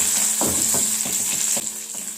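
Garlic sautés in a hot pan for restaurant-style chicken noodles, a steady close sizzle with several evenly spaced spatula scrapes, and no voices.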